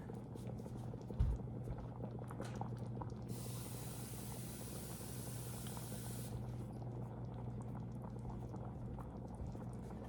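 A steady low bubbling simmer of lasagna sauce in a pot, quiet and continuous, with a brief hiss of higher noise in the middle and a faint thump early on.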